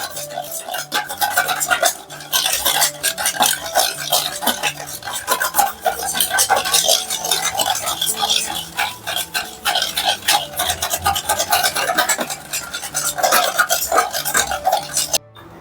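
Punugulu batter mixed with food colour in a bowl, a spoon stirring and scraping continuously in a fast, even rhythm with light metallic clinks, close up and steady throughout, no talking.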